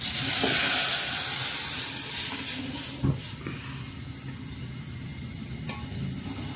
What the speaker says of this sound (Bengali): ডালটা এখন ঢেলে দিব।